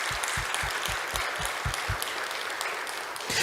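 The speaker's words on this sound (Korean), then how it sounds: "이끌어 가시는 목사님을 위해 격려의 박수를 한번 해주시죠" A church congregation at a revival service claps in encouragement for their pastor, a steady wash of applause throughout with some rhythmic low thumps early on.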